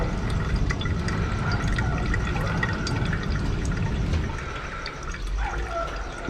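Colloidal liquid from refining natural gold nuggets is poured slowly into a vessel, producing a continuous close splashing fill that thins out and quiets after about four seconds, with no talking.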